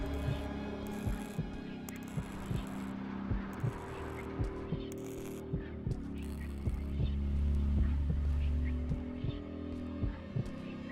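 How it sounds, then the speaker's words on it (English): A continuous heartbeat effect thumps in the horror video game Dark Atlas: Infernum, steady low beats that repeat over a droning hum and a quiet, eerie ambient bed. "why do we have the continuous heartbeat sound effect going off?"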